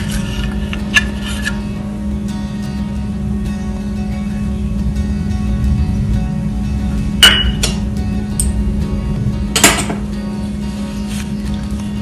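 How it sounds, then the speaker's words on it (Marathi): A spoon mixes melted chocolate into peanut butter in a bowl. A few sharp clinks against the bowl stand out over a steady low hum and quiet scraping. "चॉकलेट पूर्ण मिक्स करून घ्यायची"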